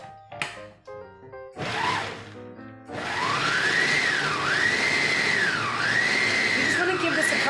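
Food processor pulsing basil pesto with walnuts: a few short mechanical bursts first, then a sustained whirring motor grind with a rising and falling pitch, close and fairly loud.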